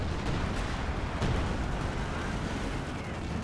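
Grenades burst in a Company of Heroes 2 battle, a dense, continuous wash of rumbling blasts and scattered pops that sounds loud and sustained throughout, with one sharper burst near the middle.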